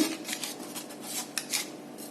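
A knife slices through rolled cinnamon bun dough into rounds, giving soft scraping cuts and light taps on a board, a few faint strokes with no talk.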